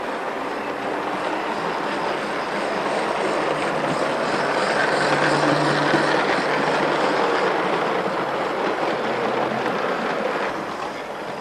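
A model railway train on the Furness line runs steadily along the track, a continuous rumbling whir that swells a little louder mid-pass and then eases as it moves on.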